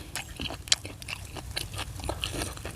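Someone biting and chewing grilled duck beak, with crisp crunching and tearing bites in an irregular rhythm, close to the microphone over a low background hum.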